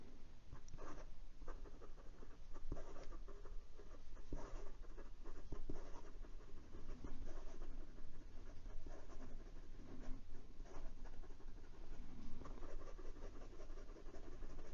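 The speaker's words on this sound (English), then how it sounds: "And some quick writing." A Wing Sung 699 fountain pen with a medium nib writing quickly on paper, giving a continuous close scratchy rasp with rhythmic strokes and small pauses, steady and quiet, no voices.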